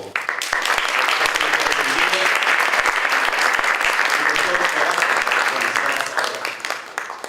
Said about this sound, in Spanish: le quiero agradecer y pedirle un aplauso